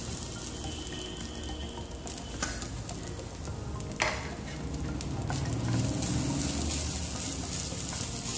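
Cashews and half a cup of grated coconut fry in oil in a pan for a Malabar unnakaya snack, giving a steady dense sizzle with occasional stirring scrapes and a brief clink.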